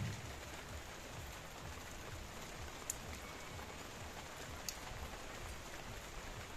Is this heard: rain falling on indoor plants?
yes